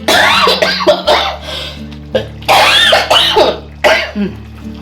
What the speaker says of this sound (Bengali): কি কাশি কি কাশি বাপরে বাপ